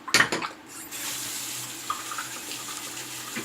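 Water runs from a tap while a shaving brush is rinsed under it, starting with a short burst of splashing and settling into a steady, close faucet stream at moderate level, with no voices.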